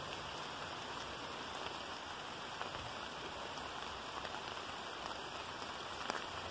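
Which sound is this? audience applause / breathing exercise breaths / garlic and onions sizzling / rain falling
rain falling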